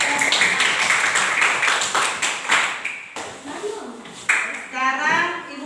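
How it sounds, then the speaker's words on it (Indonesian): A classroom breaks into applause, a burst of close, uneven hand claps that thins out and fades, with a teacher's voice speaking over it. "Tepuk tangan dulu buat"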